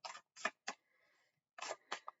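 Tarot cards being shuffled, a few short crisp riffling bursts with a brief pause between them, close and quiet with no talk.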